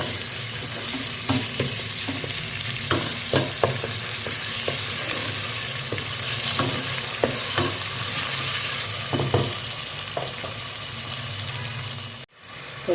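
Ginger paste fries in a pan for a potato shorba, giving a close, constant sizzle broken by scattered scraping clicks of a spoon stirring, with a brief sharp drop near the end and no voices.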